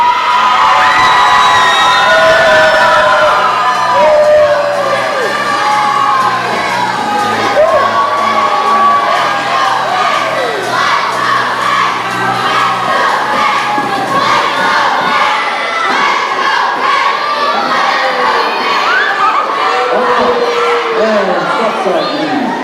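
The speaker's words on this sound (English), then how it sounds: "Hold up your signs and cheer for them." A large crowd at the Chidon HaTanach Bible quiz cheers for the contestants with loud sustained shouting, whoops and high children's voices, all blending into a continuous roar that fills the hall.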